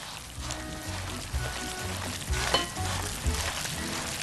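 A semolina basbousa mixture is stirred by hand in a bowl, producing steady wet scraping and sloshing with a few soft clinks against the sides, fairly close and continuous with no talking.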